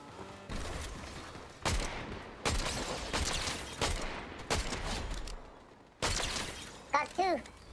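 Bursts of video game gunfire in Fortnite, several loud volleys and sharp cracks spread across the stretch, with squad players talking between them.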